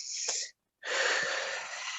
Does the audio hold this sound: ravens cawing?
no